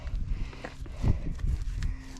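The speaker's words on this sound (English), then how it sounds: "Oh, cows." Cows gather near a gate in Lake District countryside, giving a low, muffled lowing with shuffling against a soft outdoor background; no one speaks.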